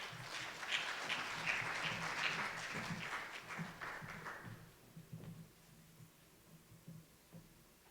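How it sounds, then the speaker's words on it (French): Audience applause at a World AIDS Day ceremony as a doctor steps up to the podium, broadband clapping filling the first half then thinning out, with a voice speaking over the fading tail. "Sous vos applaudissements, bien sûr."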